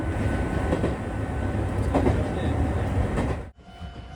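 A Chichibu Railway train, a line also used for freight, rushes past at speed with a loud rumbling clatter of wheels on well-kept track, cutting off abruptly near the end as the noise drops away.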